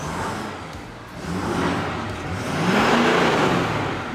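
Close-up engine of a Ford F-250 pickup truck on its stock exhaust, idling and then revving in two rising swells that climb and fall back, loud and with no talking.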